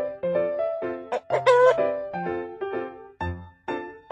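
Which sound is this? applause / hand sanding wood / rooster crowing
rooster crowing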